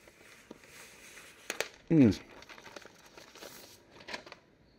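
A brief crinkling tear as protective film is peeled from a new 10th-generation iPad during unboxing, one short close rip amid faint handling rustles.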